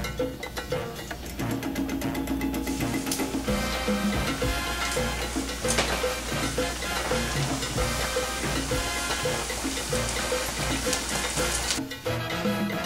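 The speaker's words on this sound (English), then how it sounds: "Now the next step is to take our smushed tostones and put them back in the frying pan." Smashed plantain tostones sizzle and fry in a pan of oil, a loud, steady crackling hiss that carries on without talk for the whole stretch.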